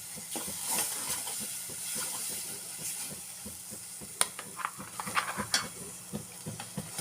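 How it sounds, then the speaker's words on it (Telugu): Ground green chilli paste frying in a pan for capsicum curry, a soft sizzling hiss with a run of small scraping and stirring clicks that get sharper toward the end, heard alone without talk. "ఇది కొంచెం వేగనివ్వాలండి."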